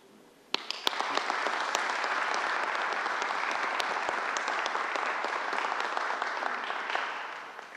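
An audience at a Bronx vaccine announcement breaks into applause: a few scattered claps come first, then dense, steady clapping from a large crowd swells and holds for several seconds before easing slightly at the end.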